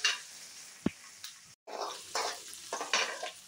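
Fenugreek and white sesame seeds spluttering in hot oil for a thovaiyal, a close, steady crackling sizzle with brief pops and a stirring scrape, no voices.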